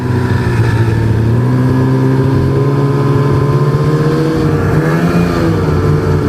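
A snowmobile idles steadily in the open Manitoba countryside, a loud continuous engine drone with an even low rumble and no talk over it.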